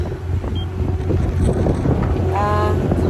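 Steady wind rushes over a sailboat crossing open ocean at about 5 knots in 13.8-knot true wind, a constant broadband roar with water and hull noise beneath and a few faint creaks near the end.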